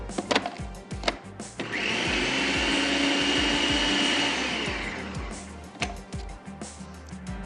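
An electric food chopper runs for about three seconds, whirring steadily as it chops bread and onion. Knocks and clatter of handling come before and after.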